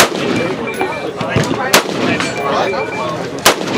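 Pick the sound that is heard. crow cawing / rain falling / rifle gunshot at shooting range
rifle gunshot at shooting range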